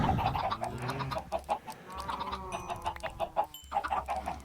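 Blocky Minecraft chickens cluck repeatedly in a quick, overlapping patter, moderately faint but continuous, with several birds calling close together.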